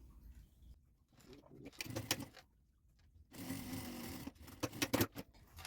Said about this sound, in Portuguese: passo uma costura exatamente em cima de onde eu acabei de passar